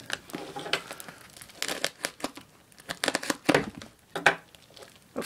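A knife slicing through a taped shipping package from TheCubicle.us, heard as close crinkling, tearing and scraping in irregular bursts, with no talk.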